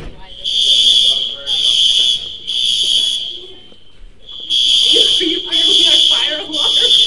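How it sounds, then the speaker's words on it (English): A fire alarm sounding at a school in loud, repeated shrill electronic bursts with short gaps, people talking underneath between and during the blasts. "Fire alarm. You're supposed to leave."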